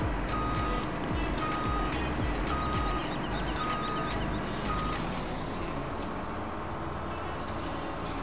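A truck in Farming Simulator 17 reverses with a steady series of evenly spaced electronic beeps over a loud, continuous engine rumble, with faint farm machinery sounds mixed in.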